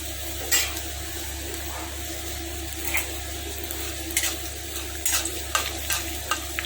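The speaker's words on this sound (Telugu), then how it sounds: "తాలింపు ఫ్రై అవ్వాలి." Black gram, mustard seeds, chana dal and a dried red chili sizzle and crackle steadily in hot oil, with occasional louder pops and a light stir, close up and no talking.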